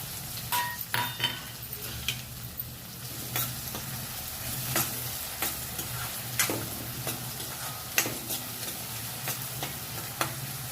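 Chopped onions sizzle in a hot pan for liver curry, a steady frying hiss broken by repeated sharp clicks and scrapes of a spoon stirring against the metal.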